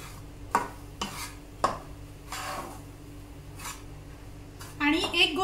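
A besan mixture stirred with a spoon in a pan for besan ladoo, giving a few sharp scrapes and clinks spaced out, with a clatter near the end.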